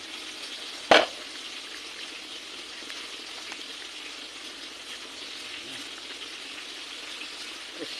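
Tilapia fries in oil with a constant soft hiss close by, and one sharp click or pop stands out early.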